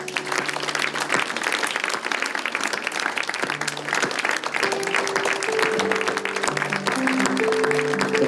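A church congregation applauds warmly during a pastor's sermon, continuous loud clapping that holds steady while sustained organ or keyboard tones rise in underneath.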